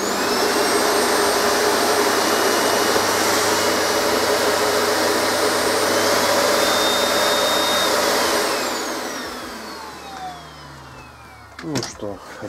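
A vacuum cleaner salvaged from a dump in Germany is switched on and runs with a loud, steady motor whine and airflow roar for about eight seconds, then winds down, ending in a few clunks and handling noises.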